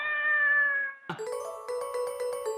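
A cat gives one long, clear, close meow, followed by a run of bright, bell-like chiming tones.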